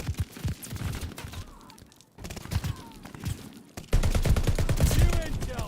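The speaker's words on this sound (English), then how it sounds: "With a super loud LMG." Rapid bursts of loud light machine gun fire from Call of Duty: Vanguard battle royale play, dense repeated cracks in several long volleys that grow louder near the end, with faint game sounds in between.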